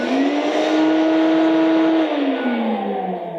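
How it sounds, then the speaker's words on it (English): Turbine fans spin inside a paint spray system, a smooth, loud, steady whine that holds level and then slides lower and fades slightly as it winds down. "those are those fans and those turbines spinning"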